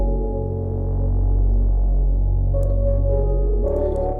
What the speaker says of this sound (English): we have a filtered piano sound